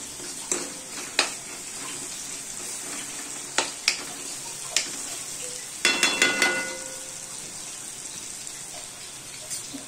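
Washed tomatoes cooking in oil in a pan give a steady sizzle with irregular clinks and scrapes of a spoon, several sharp taps clustered near the middle, with no talking.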